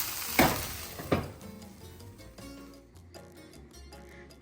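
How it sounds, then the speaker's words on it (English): Hash browns sizzling in a pan while being stirred, with two sharp scraping knocks near the start, then a softer continuous fry. "As you see, I have some hash browns going on the side here. I'm gonna stir those up."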